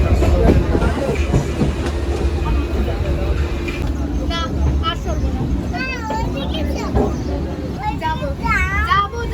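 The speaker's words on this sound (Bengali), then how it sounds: "তো আমরা ট্রেনে উঠলাম" A train rumbling steadily along the tracks, with people talking over the noise and a few high squeals or whistles in the second half.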